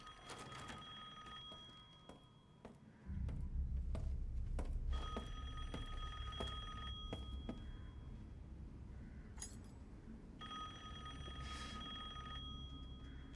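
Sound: telephone ringing in video game Resident Evil Village

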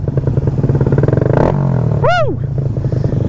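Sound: Grom motorcycle engine riding loud

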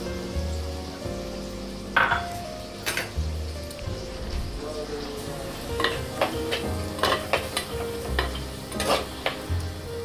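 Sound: tomatoes sautéing in a pan

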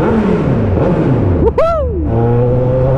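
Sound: Kawasaki Z1000 motorcycle engine revving

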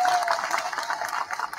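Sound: audience applause at a speech

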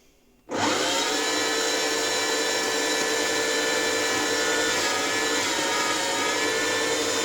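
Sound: electric grinder grinding meat and potatoes

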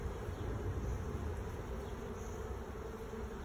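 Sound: honey bees buzzing around an open hive

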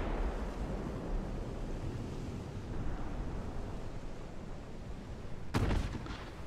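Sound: 8-inch shell hitting a destroyer in Ultimate Admiral: Dreadnoughts video game

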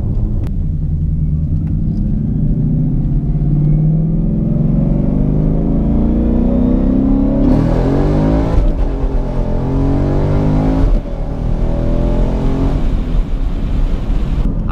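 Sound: Ford 5.0 car accelerating hard on the road

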